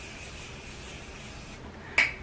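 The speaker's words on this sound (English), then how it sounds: "So I'm just going to spray this on my face." Morphe Continuous Setting Spray misted onto a face: one short, sharp hissing spray burst near the end, close and clear, after a quiet stretch of faint room hiss.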